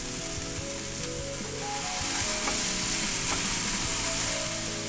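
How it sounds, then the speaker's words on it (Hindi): Vegetables fry loudly in a pan, a constant crackling sizzle with faint stirring scrapes, no voices. "इसको अच्छे से भूनना है ताकि क्रंची हो जाए सब्जियां"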